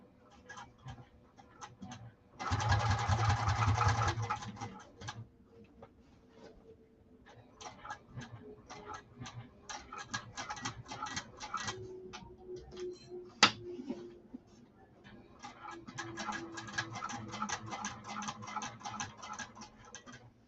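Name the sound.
sewing machine top stitching a saddlebag lining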